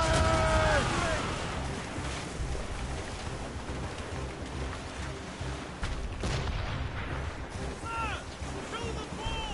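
Naval cannon fire from a ship battle in the video game Assassin's Creed Rogue, with loud booming blasts over a constant roar of sea and battle noise, while voices shout orders throughout.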